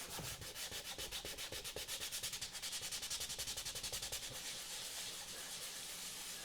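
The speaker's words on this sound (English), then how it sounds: "I'm sanding on the back of this mesh here" Steady, rhythmic hand sanding of the back of a mesh face shell, a quick back-and-forth rasping scratch repeating close by with no talking.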